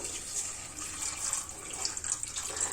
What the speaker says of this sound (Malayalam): ഇനി നമുക്കിത് വേവാൻ ആവശ്യമായിട്ടുള്ള വെള്ളം ഒഴിച്ചു കൊടുക്കാം